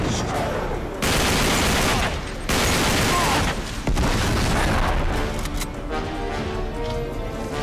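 Grenade launcher blasts from Uncharted 3: Drake's Deception pound in loud, heavy booming bursts amid gunfire, with several dense explosive stretches separated by brief dips.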